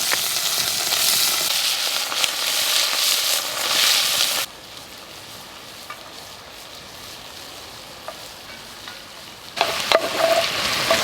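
Shin of beef and minced beef frying in a pan over an outdoor woodland cooking fire, a steady loud sizzle for about four seconds that then drops to near quiet before a fresh burst of sizzling near the end.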